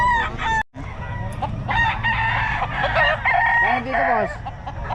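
Boston Hen rooster crowing close by in several loud cock-a-doodle-doo calls with clucking between them, over a busy background of other birds and a brief gap near the start.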